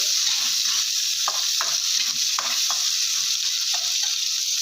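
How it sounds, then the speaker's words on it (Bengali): Whole spices fry in oil in a pan for an egg curry, a dense and steady close-up sizzle broken by intermittent spatula stirs and light scrapes. "এবার আমি বেশ সুন্দর করে এগুলো ভেজে নেব তেলের মধ্যে"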